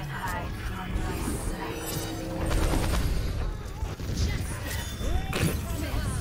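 Incoming barrage attack in a multiplayer shooter game, a dense continuous roar of explosions and rapid gunfire filling the scene, with players talking over the chaotic, loud battle noise throughout.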